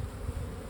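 Honey bees buzz steadily around an open hive during an inspection, a close, continuous low drone with no talking.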